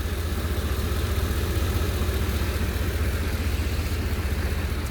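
A GM Vortec 8.1 liter V8 truck engine idles with the hood open, a steady low rumble that stays close and even throughout with no voices.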